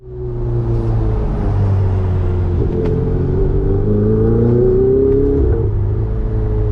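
A Ferrari 488 Spider engine revs up loudly and steadily, its pitch climbing and holding in a sustained roar, close and with no talking.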